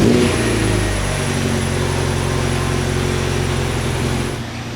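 A boosted Honda EK hatchback with a JDM H22A engine runs on a dyno, a loud, sustained engine roar held steady for several seconds before easing off at the end.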